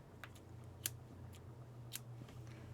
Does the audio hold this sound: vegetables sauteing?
no